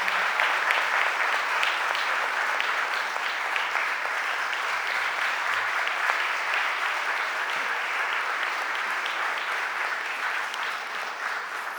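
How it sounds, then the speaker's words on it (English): An audience at a city council budget hearing applauds steadily for several seconds, a dense, even wash of clapping that stays loud throughout with no talk over it. "Let's give them a round of applause."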